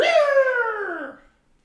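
A human voice imitates a bird's call with a drawn-out, howling "rear" cry, a single loud wail lasting just over a second that slides downward in pitch and fades out.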